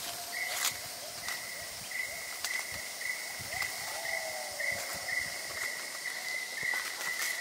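Insects, likely cicadas, buzz in a rainforest in Khao Sok National Park, Thailand, holding a steady high drone with a rapid, pulsing chirp repeating throughout, moderately loud over a faint rustling forest background.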